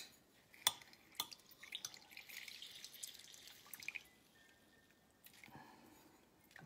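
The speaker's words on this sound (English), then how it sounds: "going to squeeze the lemon into a bowl or this mug, because I do want about 3 tablespoons of lemon juice" Lemon juice dripping from a freshly squeezed lemon into a bowl or mug: a few faint, sharp drips and soft squishing in a quiet room, with no talking.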